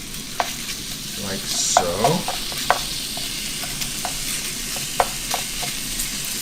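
Sausage browning in a soup pot for a creamy tortellini soup, sizzling steadily up close while a spoon scrapes and taps now and then; a voice speaks briefly.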